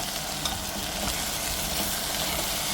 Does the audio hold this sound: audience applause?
no